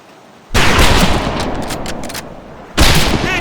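Rifles crack in a loud volley on a Medal of Honor Pacific Assault training range, a sharp burst of overlapping shots that rings out and decays, then a second blast near the end.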